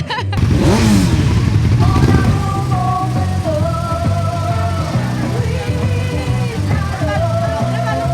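Women riding motorcycles pass by, engines droning and revving steadily throughout with some clatter, while music with sustained tones plays loudly over the riding.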